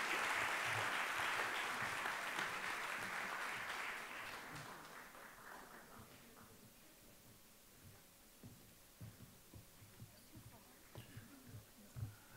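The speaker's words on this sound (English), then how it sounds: "Another round of applause for Elaine." Applause from an audience at a culinary institute chef coat ceremony, loud and dense at first, then fading over several seconds into a quiet room with scattered soft sounds and faint voices.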